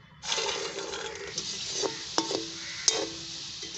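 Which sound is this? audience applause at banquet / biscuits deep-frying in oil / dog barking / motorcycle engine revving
biscuits deep-frying in oil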